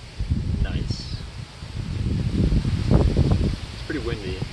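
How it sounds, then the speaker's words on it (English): Gusty wind rumbles and buffets against the microphone in the woods, rising and falling, with faint bird chirps in the background. "It's pretty windy."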